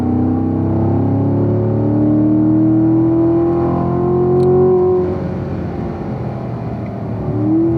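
A race car powers out of a corner at Spring Mountain Raceway, its engine note rising loud and close in a steady climbing drone that eases slightly toward the end.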